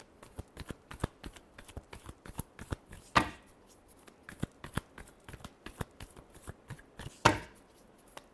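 Tarot cards shuffled by hand, making a sequence of quiet, crisp slaps and flicks in an irregular rhythm, with two louder riffling bursts standing out, close and alone without talk.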